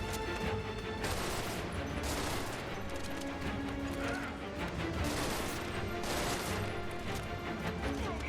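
Heavy, continuous gunfire in a Final Fantasy VII Remake battle, a dense unbroken clatter of shots at steady loudness with crashes mixed in.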